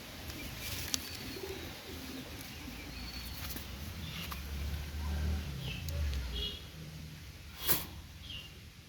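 Pakistani high-flyer pigeons, including a female, coo softly and intermittently close by, with a low murmuring coo running under faint background voices and a few brief chirps.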